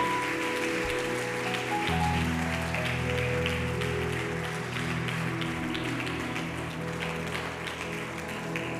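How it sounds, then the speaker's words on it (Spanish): A church congregation applauds together, a dense, steady wash of many hands clapping at an even level throughout, with sustained tones from music playing underneath. "Démosle palmas al Rey por la vida de mi hermana."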